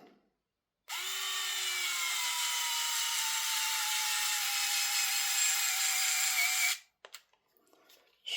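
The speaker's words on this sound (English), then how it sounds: "Screw it all the way down as far as I can go with this" A power driver whirs continuously for about six seconds as it drives screws into an airsoft Tapp HPA MP9 lower, a steady high whine with a slowly falling pitch, then stops abruptly, followed by faint handling.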